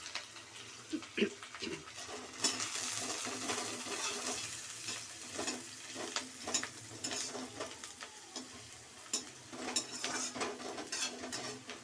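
Chopped garlic and ginger are stirred in a pan for dhaba-style egg tadka, with a steady soft sizzle under repeated scraping and clinking of a spoon against the metal, close by and with no voices.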